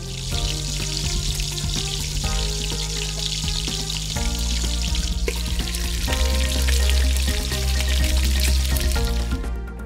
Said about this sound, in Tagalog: Kapag nabalot na sa cornstarch ang binatog, pwede nang iprito.